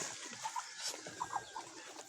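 Faint, scattered clucks from laying hens in short bursts over a soft background hiss, heard from a little distance with no talking, on an island farm.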